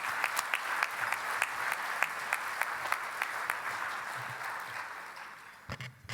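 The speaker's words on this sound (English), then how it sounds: "If they're here, round of applause." An audience at a conference keynote applauds award winners, a burst of dense clapping that tapers off over several seconds.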